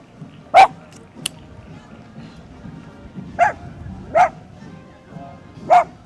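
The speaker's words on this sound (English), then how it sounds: "Whose dog is that?" A dog barking outdoors at a Memorial Day parade in Oshkosh, four sharp, fairly close barks spaced irregularly over a quiet crowd background.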